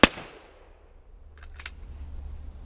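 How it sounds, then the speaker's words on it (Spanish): Pistol shots ring out during defensive shooting practice at seven metres. One sharp, loud crack comes first, then two fainter, quick pops follow about a second and a half later. "los tres disparos pegados en la zona"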